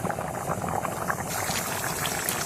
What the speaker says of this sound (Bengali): দেখো বন্ধুরা তরকারিটা কত সুন্দর ফুটছে